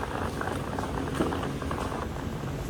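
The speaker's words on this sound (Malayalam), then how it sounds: "നല്ല രീതിയിൽ മഴ പെയ്തുകൊണ്ടിരിക്കുന്നുണ്ട്" Steady rain patters continuously with a dense, even hiss at a railway station, moderately close and unbroken, no voices.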